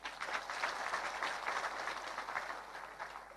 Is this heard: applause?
yes